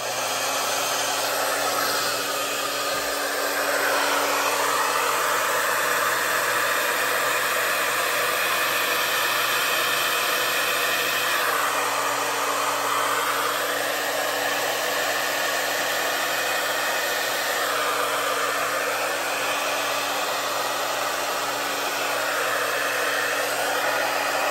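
A hair dryer runs steadily on high fan with cool air, a continuous loud whooshing blow that holds for the whole stretch with slight shifts in tone as it moves.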